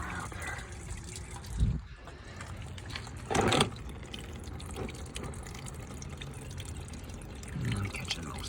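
Antifreeze coolant pouring steadily from a 2015 Honda Civic into a pan, a continuous wet trickle with a few louder splashes, close by.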